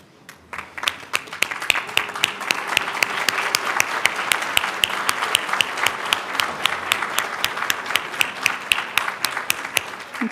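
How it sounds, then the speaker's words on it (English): A graduating class and guests clap together at a medical school stethoscope and commitment ceremony; the applause swells quickly into a loud, sustained ovation of many hands that fills the hall. "let's give them a round of applause"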